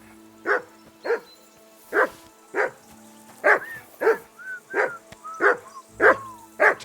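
In the video game Kingdom Come Deliverance 2, a dog barks over and over nearby, with about a dozen loud barks in a steady rhythm and a few short whines between them.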